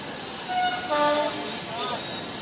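A train pulls out of Haridwar station bound for Bhavnagar, its horn sounding in steady tonal blasts over rolling rail noise and a busy platform murmur, moderately loud and close throughout.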